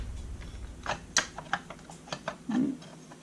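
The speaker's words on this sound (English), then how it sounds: "try to get these little screws through on the other side" Small screws being fitted into the oil tank of a McCulloch 1-53 chainsaw, heard as close, quiet scattered metallic clicks and taps with a brief low rattle near the end.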